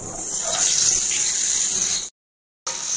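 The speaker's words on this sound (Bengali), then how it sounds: "আর একটু তেল ঝরার পর এখন আমি পটলগুলো ভেজে নিচ্ছি।" Pieces of pointed gourd (potol) fry in hot oil with a loud, steady hissing sizzle that cuts out briefly and then resumes, close by with no talk.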